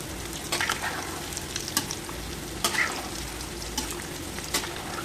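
A sweet filling for pala munjalu frying and being stirred slowly in a pan, a steady close sizzle broken by a few scraping spatula strokes, with no speech.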